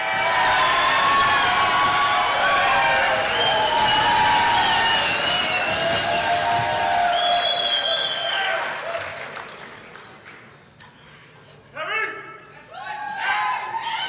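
A dinner audience at the ISCC/PAL awards bursts into loud applause and cheering with a few whoops, sustained for about eight seconds before trailing off. A voice then speaks briefly over the last scattered claps.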